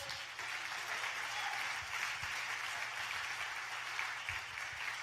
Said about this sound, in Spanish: Dale ese aplauso a Dios.